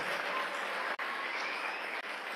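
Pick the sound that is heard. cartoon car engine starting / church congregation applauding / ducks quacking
church congregation applauding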